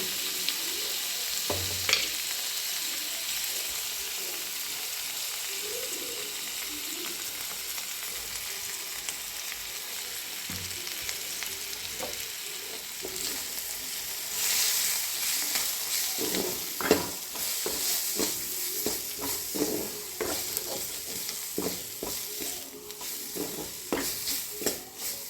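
Garam masala and curry spices fry in a pan for an Assamese jackfruit curry, a low continuous sizzle with intermittent scraping stirs and clicks that grow busier in the second half.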